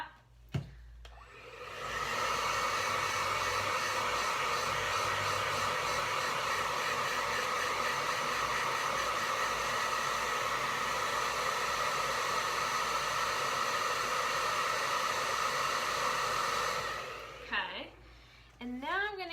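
A hair dryer blows on wet paint on a painting, a loud, steady rushing hiss that starts after a brief click, runs unbroken for about fifteen seconds, then cuts off.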